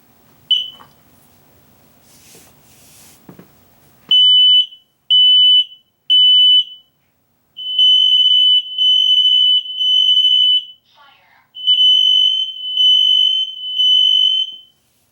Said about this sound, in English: That's because that was the smoke alarm carbon monoxide one.